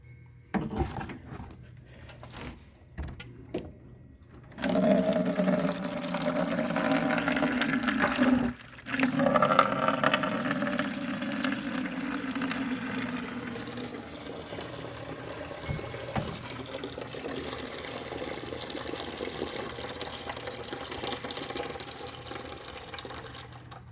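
Water draining from a 13-liter Liberty fruit and vegetable purifier, a steady gushing, trickling flow that begins after a few handling clicks and continues for a long stretch, briefly interrupted.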